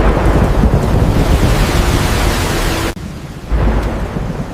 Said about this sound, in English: Storm imminent.